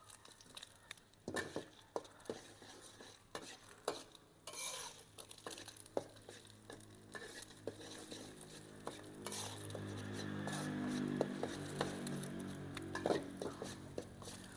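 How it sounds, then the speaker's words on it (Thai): Eggs are stirred in a hot pan for fried rice: quiet, rapid scraping and clicking of a utensil against metal, with a faint sizzle that swells toward the end. "คนไข่ครับ คนไข่ไปเรื่อยๆ"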